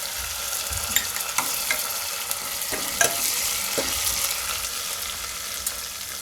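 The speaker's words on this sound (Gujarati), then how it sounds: "એમાં લીમડો નાખી દેવું." Curry leaves sizzle and crackle in hot oil while being stirred for a mixed dal and bottle gourd curry, a steady frying hiss with scattered sharp pops and spoon scrapes, close and moderately loud with no talk.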